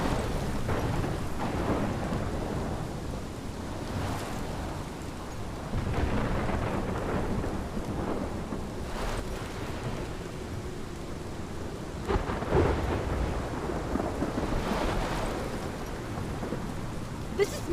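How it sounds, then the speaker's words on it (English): Rumbling thunder rolls through steady heavy rain in the video game Life is Strange, with several loud claps and booms over a constant downpour; no talk over it. "This is my storm."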